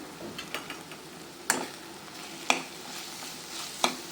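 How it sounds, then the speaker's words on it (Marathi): Dry spices, coriander powder and Kitchen King masala, frying in oil with a quiet sizzle, punctuated by three distinct scraping clacks of a spoon stirring the pan, close and otherwise soft. "कोरडे मसाले चांगले फ्राय होऊ द्या"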